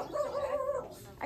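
A dog gives a single short whining bark or yip, close by, amid faint background noise.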